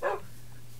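A dog in the Minecraft game gives one short, clear bark, followed by a quiet background hum.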